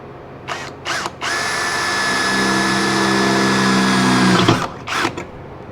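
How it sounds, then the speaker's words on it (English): A power drill whines steadily for several seconds boring a small hole in a Jeep XJ steel skid plate, with short bursts before and after. "I'm going to try and drill a small hole here"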